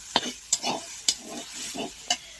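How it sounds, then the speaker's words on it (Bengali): Potatoes frying in a pan while being stirred: four sharp spatula scrapes at a steady rhythm over a continuous soft sizzle, close and moderately loud. "আলু ভাজা"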